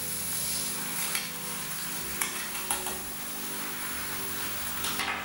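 Cut beef pieces fry in a pot with onion, a steady close sizzle running throughout, broken by a few sharp clinks and scrapes of stirring.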